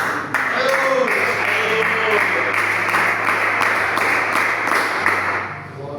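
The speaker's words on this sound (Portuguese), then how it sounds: "Vamos louvar com as palmas" A church congregation claps along in praise, making a steady crowd of hand claps over a low sustained musical tone that runs throughout, with some voices mixed in.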